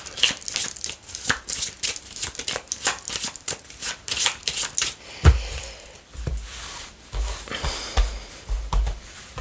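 Tarot cards being shuffled by hand for a second draw, heard as a run of close, crisp riffling and slapping bursts in an uneven rhythm, with a few soft thumps and no speech.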